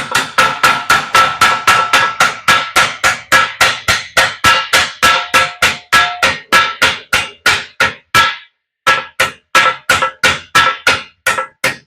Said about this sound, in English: We'll grab my Tucker hammer.